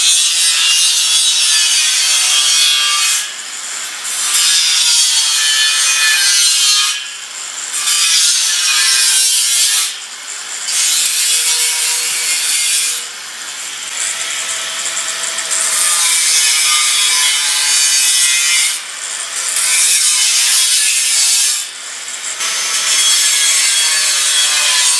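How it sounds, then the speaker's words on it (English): Steel being sawn for a vacuum system frame: loud, continuous rasping strokes in long runs, broken by brief pauses every few seconds. "we'll start cutting some steel work"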